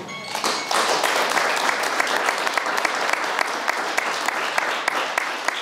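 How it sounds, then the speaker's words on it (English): Audience applause at a county candidates forum, a full, sustained burst of many hands clapping from the room, building quickly and holding steady with sharp individual claps standing out near the front. "Let's give him one more round of applause."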